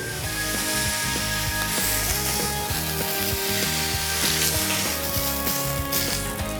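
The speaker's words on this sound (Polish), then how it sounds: "I grillujemy. Nie dotykaj mięso." A beef steak sizzles on a grill, turned once and left to sear, making a steady, loud crackling hiss that runs unbroken from start to end with no voices.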